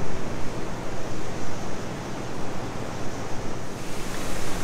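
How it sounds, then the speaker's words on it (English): Heavy rain pours down steadily outside, a dense, continuous roaring hiss with no talking. "it is raining cats and dogs outside right now"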